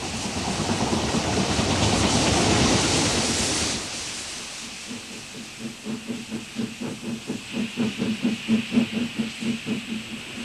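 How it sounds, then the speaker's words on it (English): Steam locomotives on the Somerset and Dorset railway over the Mendip Hills gradients, hauling heavily loaded trains: a loud rushing hiss of steam for several seconds, then a steady rhythm of chuffing exhaust beats close by. "The majority of heavily loaded through trains, running only on summer Saturdays, required the combined power of two locomotives."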